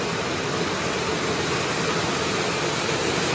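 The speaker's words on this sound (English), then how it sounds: "that's the sound of rain on the tin roof" Steady, even hiss of rain drumming on a tin roof, a constant wash of noise with no talking and no breaks.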